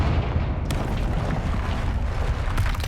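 A Confringo fire-spell blast in Hogwarts Legacy: a loud, rolling explosive roar starts abruptly and fills the moment with dense, sustained rumbling, heard alone.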